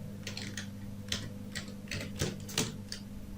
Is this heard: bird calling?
no